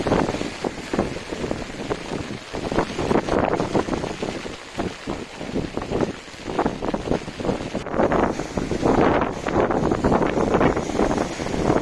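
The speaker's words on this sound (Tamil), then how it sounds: "நல்ல காத்து அடிக்க ஆரம்பிச்சிருச்சு" Strong wind from Cyclone Burevi buffets the microphone continuously at Kodiyakkarai, Pudukkottai district, Tamil Nadu, a rough, gusty roar with no talking.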